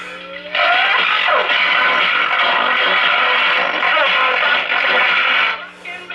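A 1938 Philco 38 tube radio playing with a distorted, unclear sound, a steady harsh broadcast-like output that starts after a brief lead-in and cuts off near the end, close by.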